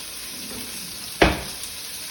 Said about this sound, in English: we're going to put our zucchini once the pan is hot